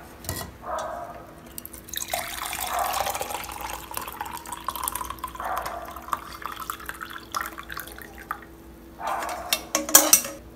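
Liquid being strained and poured from a pot after a ten-minute soak, a steady trickling splash with drips, faint and close, pausing and resuming over about ten seconds.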